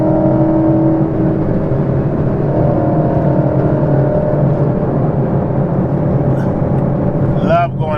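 A manual-transmission car drives hard through a corner, its engine holding a loud, steady drone with a shifting pitch and broad road and wind noise throughout, no talking.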